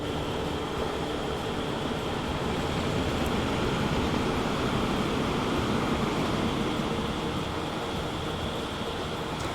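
Train ride aboard a passenger train in Transport Fever, with a continuous loud rumble of wheels and rolling stock that holds steady throughout, with no talk.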